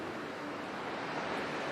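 Sea waves of the Pentland Firth, where the North Sea meets the Atlantic at Britain's most northerly mainland point, surging as steady broadband wash mixed with wind buffeting the microphone, with no talk.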